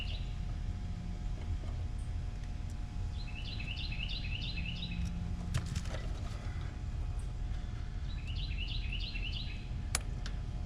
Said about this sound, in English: Birds are out chirping.